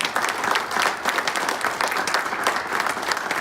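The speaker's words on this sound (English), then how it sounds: "if I'd ask for one more round of applause for current and also the fellows that were presented this morning" A room of people at a Paul Harris Fellow presentation applauds steadily in a brisk, dense round of clapping, close and loud throughout with no speech.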